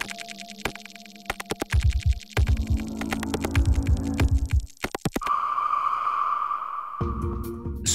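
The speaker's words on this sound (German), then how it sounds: "Kapsel rein und die Maschine brüht jeden Tee individuell auf." Nestlé Special.T capsule tea machine brewing, with a run of clicks and thumps, a pulsing mechanical drone, then a steady hissing pump tone building in the middle and low hums near the end, fairly close and alone.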